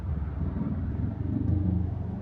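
Steady, heavy low rumble of a car crawling through congested traffic near Eastwood, with large trucks on the road, droning continuously and close with no voices.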